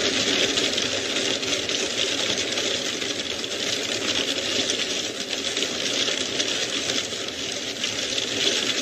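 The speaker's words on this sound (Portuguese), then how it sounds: "Esse é o som da chuva de granizo." Hailstorm with a dense, continuous roar of hailstones and heavy rain hitting surfaces, loud and steady throughout with no voices.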